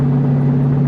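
Steady, droning exhaust note from a car cruising at about 2,000 RPM, heard from inside the cabin as an even low hum with no voices.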